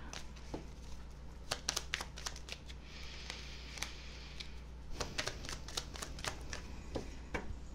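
Playing cards are shuffled and handled close by during a tarot-style card reading, with repeated sharp flicks and riffles over a low background hum and no voices.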